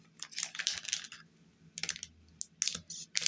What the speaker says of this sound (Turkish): Ve Son paketimizi de açalım.